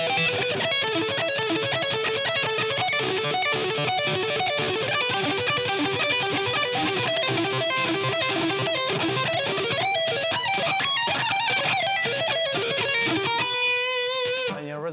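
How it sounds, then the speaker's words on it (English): A distorted electric guitar plays a diminished chord over the five chord and then resolves, with dense sustained notes ringing steadily for about fifteen seconds before cutting off. "So if I use diminished on my 5 chord, then it would sound something like this."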